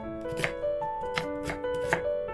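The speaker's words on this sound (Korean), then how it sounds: "양파를 썰고" A knife slices an onion on a cutting board with four evenly spaced crisp thuds over about two seconds, close and clear, over a steady tonal background of music.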